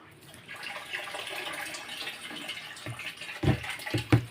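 Water runs steadily from a tap at moderate level, a continuous splashing flow with a few louder knocks and splashes near the end.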